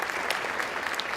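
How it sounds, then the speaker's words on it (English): Steady applause from an audience at a charity summit fills the room, dense even clapping with no gaps, close and fairly loud, no voices over it. "One more round of applause for the Fishers"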